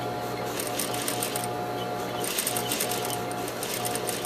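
Sewing machine stitching a long line to ease a sleeve cap, a steady close whirring hum with a rapid needle chatter running throughout.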